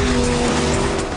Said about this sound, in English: On the entry to the corner, the car's superior braking kept me in front.